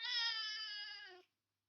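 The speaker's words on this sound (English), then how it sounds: "Look at this cute cat." A cat gives a single close, clear meow lasting just over a second, tonal and slightly falling at the end, then silence; no talking.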